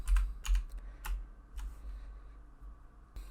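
Typing on a computer keyboard: a handful of crisp key clicks in irregular bursts, close and clear over a faint low hum, with a quiet pause before a final click.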